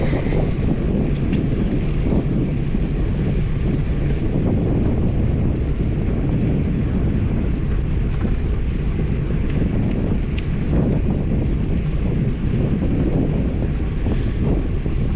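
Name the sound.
wind while riding a bike on a trail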